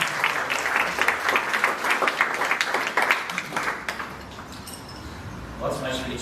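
An audience at a peace forum in Derry breaks into a round of applause, strong and crowded at first, then fading away after about four seconds into quieter room sound with a voice starting to speak.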